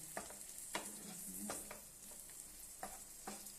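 A spoon stirs carrot halwa with almonds in a pan, giving soft repeated scrapes over a steady low sizzle, close and fairly quiet.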